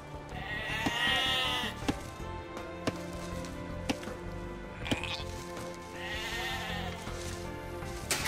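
Several sheep bleat in the Age of Empires 2 video game, with repeated wavering cries at moderate volume. Short clicks and soft game effects punctuate the bleats, and there is no talk.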